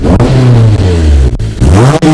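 Honda S2000 engine with a straight pipe exhaust revving loudly and close up, a deep, raspy drone that climbs and dips through a couple of quick throttle blips, with no voices.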